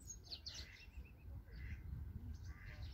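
Scattered bird chirps and tweets at a distance, faint over a low rumbling background.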